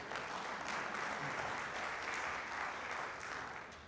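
An audience at a 2014 Smoky Valley High School senior band and orchestra concert claps steadily, a faint, distant-sounding wash of applause that tapers slightly toward the end.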